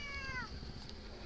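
A female house cat gives a single soft, drawn-out meow near a computer keyboard, faint against a low background hum.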